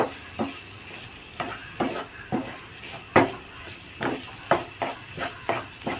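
Cabbage tossed into a hot pan for a masala roast, sizzling steadily while a spoon stirs and scrapes against the metal in repeated sharp clinks, roughly one every half second, close and clear with no talk.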